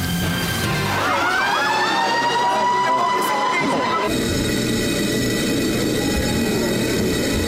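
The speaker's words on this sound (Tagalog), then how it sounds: "Sa tunog ng sirena, inihudyatan dapat paglikas sa mga empleyado patungo sa ligtas na lugar." A loud wailing earthquake drill evacuation siren rises and sweeps over a steady background rumble, then cuts to a sustained tone with crowd noise.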